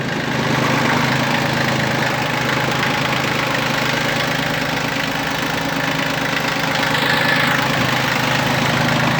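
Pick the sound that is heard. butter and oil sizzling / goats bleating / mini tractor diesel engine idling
mini tractor diesel engine idling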